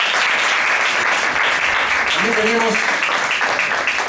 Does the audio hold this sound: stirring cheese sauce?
no